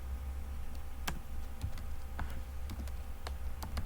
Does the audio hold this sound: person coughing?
no